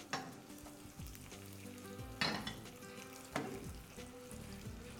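Small pieces of garlic fry in a hot pan while being stirred, for a Egyptian-style sautéed grilled vegetable dish; a steady close sizzle runs throughout, broken by a few sharp scraping stir strokes.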